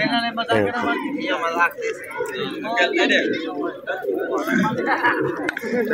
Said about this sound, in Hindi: बहुत अच्छे अच्छे कबूतर हैं